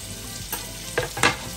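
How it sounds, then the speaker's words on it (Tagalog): Onion drops into a pan of frying garlic, giving a steady close sizzle with a couple of brief stirring scrapes and pops, no voices. "pag medyo naluto na po yung bawang, lalagay na natin yung sibuyas"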